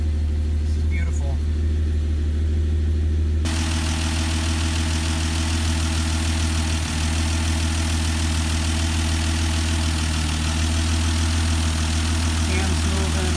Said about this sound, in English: When I let off that gas, I'm worried that it's going to stall out on me.